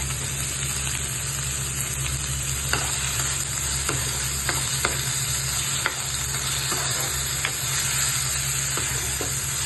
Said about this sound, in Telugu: సో ఆయిల్ వేడైన తర్వాత ఆనియన్స్ వేయాలి.